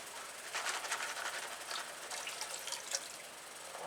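A gold pan is shaken and swirled with water, sand and rocks, making a continuous close sloshing wash with gritty rattling surges, fairly quiet and with no talking.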